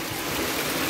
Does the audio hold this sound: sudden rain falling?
yes